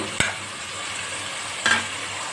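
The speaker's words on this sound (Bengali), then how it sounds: "মশলাগুলো এইবার নাড়াবো" Powdered spices (salt, turmeric, coriander and Kashmiri chilli) frying in oil for a fish curry, with a steady soft sizzle and two sharp scrapes of a spoon stirring the pan, alone and close.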